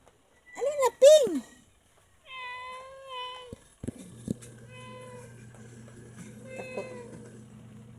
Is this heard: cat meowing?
yes